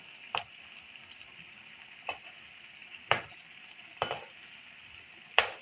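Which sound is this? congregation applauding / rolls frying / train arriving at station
rolls frying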